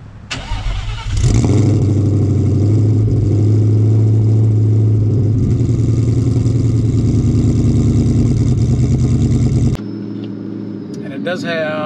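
A supercharged 2003 Ford Mustang Cobra engine cranks, fires, and settles into a loud, rough idle with a whining rumble, recorded close up, before it cuts back near the end.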